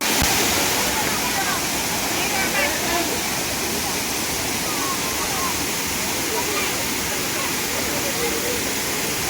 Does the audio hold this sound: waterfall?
yes